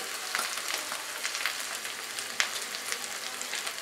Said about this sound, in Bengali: আদা রসুনটা 2 মিনিট আমি ফ্রাই করে নিলাম